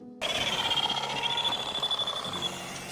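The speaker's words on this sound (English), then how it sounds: "it's the tiny electrical whirring from the arcs" Arc robots in the Arc Raiders video game give off a tiny electrical whirring, a steady pulsing electronic hum with a thin high tone, close and continuous for a few seconds.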